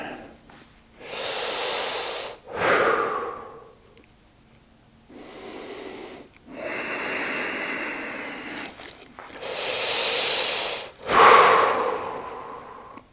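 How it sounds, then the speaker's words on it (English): Dynamic breathing during a yoga session: long forceful inhales and exhales alternate in loud, close, hissing waves with short pauses between, about half a dozen breaths and no speech. "So this will be one of those ones where you do a lot of the dynamic breathing"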